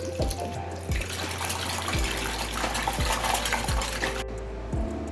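Water poured and splashing into a bowl of taro root (arvi) coated with flour and salt, a steady running-water hiss with repeated low knocks of the vessel, close and fairly loud, no speech.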